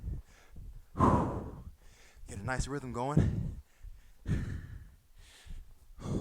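Heavy, rhythmic breathing from a person doing a kettlebell full-body strength workout, with loud exhales and sighs close to the microphone, mixed with brief spoken coaching.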